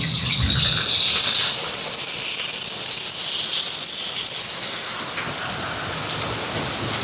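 Mustard seeds, fennel, leaves, onion, green chili and garlic hit hot oil for a dal tempering, a loud dense hiss bursting in near the start and holding steady before easing off, with rain falling throughout.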